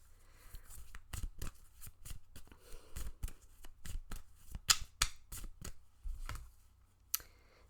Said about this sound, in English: Let's get some more cards and see where this is going.